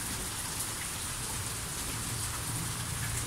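Steady rain pours down outdoors on a cold, windy day, a constant dense hiss of drops hitting surfaces with a low rumbling undertone and no voices.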